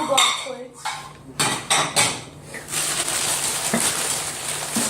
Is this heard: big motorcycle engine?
no